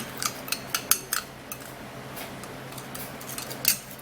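A spoon mixing a tablespoon of rice into a homemade treatment in a bowl, producing a series of crisp clinks and scrapes at an uneven rhythm, close and fairly loud.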